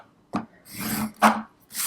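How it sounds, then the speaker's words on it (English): A tool drawn across paper on a scoreboard, three short close rasping scrapes separated by brief pauses, with no talking. "we're going to grab our scoreboard and we're going to score the pieces that measure 5 by 7 3/4"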